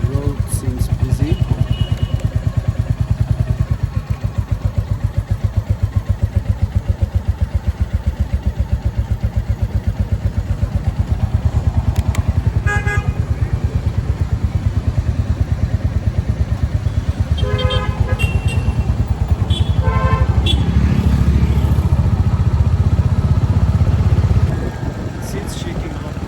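Busy road traffic heard from a moving motorcycle, with a constant loud engine drone and rushing wind, several car and motorcycle horns tooting intermittently, and scattered speech in the mix.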